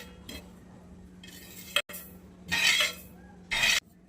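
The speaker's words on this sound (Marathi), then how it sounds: "खसखस भाजून घेऊयात" Poppy seeds and sesame roasting in a pan on a low flame, stirred with a spoon in soft scraping sweeps and light metallic clinks, close and fairly quiet without talk.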